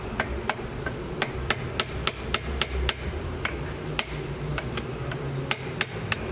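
Sharp metallic hammer taps striking a ground-off drill bolt used as a punch, driving a 1/8-inch pin into a grain mill cassette, about a dozen evenly spaced blows at a steady rhythm, close up over a low background hum.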